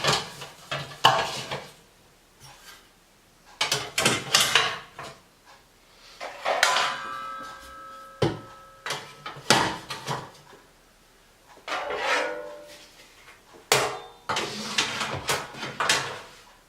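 Metal baking tins clatter and bang as they are shifted about in a kitchen cupboard, bursts of close, loud metallic knocks and ringing scrapes separated by short pauses.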